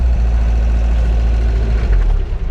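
A Tofaş 1.6 car running on LPG idles steadily right after starting, a loud, close, low rumbling drone held throughout with no voices.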